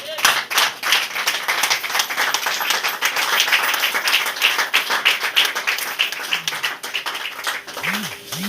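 A church congregation at a deliverance prayer service claps and applauds, dense and continuous for several seconds, with cheering voices mixed in and rising near the end.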